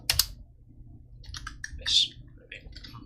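Keys clack on a computer keyboard while a Minecraft plugin command is typed: a quick burst of clicks, then scattered, uneven keystrokes, close and fairly quiet.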